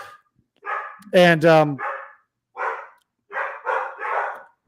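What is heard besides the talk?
dogs barking loudly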